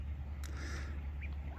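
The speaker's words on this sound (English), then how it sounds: "So the ducks are currently having fun." Ducks on a fishing lake give a brief squawking quack or two, fairly faint over steady low outdoor rumble and wind, with no talking.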